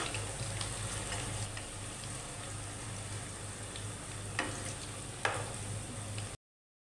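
Pieces of jackfruit, made from normally discarded parts, fry in a pan with meat spices as tikka. A steady, quiet sizzle runs throughout, with a couple of sharp stirring clinks, before the sound cuts off abruptly.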